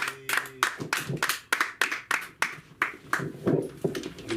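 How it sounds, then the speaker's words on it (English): Sparse audience applause for a comedian at an open mic comedy show, with a few distinct hand claps in an uneven, loose rhythm, fairly close and moderately loud. "I want you to give a warm hand of applause for the very funny Lenny."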